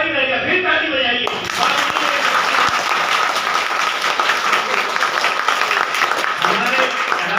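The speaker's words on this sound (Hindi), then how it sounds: "फिर ताली बजाइए।" An audience at an ashram satsang breaks into sustained, dense applause that carries on evenly to the end, with a voice on a loudspeaker heard briefly at the start.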